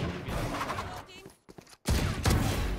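Several bursts of gunfire in Valorant, headshots landing in quick succession, loud and close with dense crackling shots, a brief near-silent gap mid-way before a heavy volley resumes.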